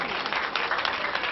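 An audience at a school prize-giving and cultural programme in Muzaffarpur applauds in dense, sustained clapping, fairly loud and close, with a faint hint of crowd voices mixed in.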